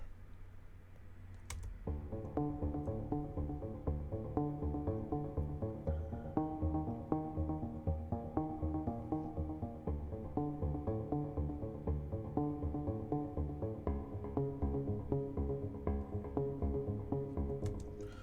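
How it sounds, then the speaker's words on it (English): A muted piano arpeggio in a raindrops style plays a steady stream of soft, dampened repeated notes after a brief click, sustained and fairly quiet throughout with no voices. "this delightful muted raindrops arpeggio on the piano"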